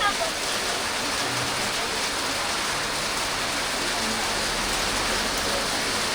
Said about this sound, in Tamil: ஆனால் மழை இவ்வளோ எதிர்பார்க்கல.